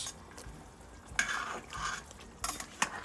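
A spoon scrapes and clatters against a cooking pot as tehari is stirred, in several uneven bursts over a quiet background.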